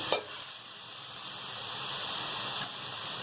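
Sliced onions sizzling in oil in a large pot, a soft, steady frying hiss with a brief clatter at the start, close but fairly quiet and without any voices.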